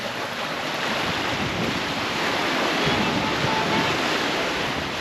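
Sea waves wash continuously onto a sandy, rocky beach at La Union, a loud, steady surf roar with some wind buffeting and no voices.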